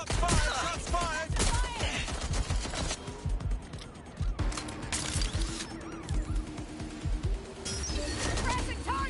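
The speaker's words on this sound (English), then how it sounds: "Shots fired! Shots fired!" Video game gunfire during a police chase, bursts of rapid shots and impacts in a chaotic mix with shouting voices and other game effects, loud in stretches and dipping between volleys.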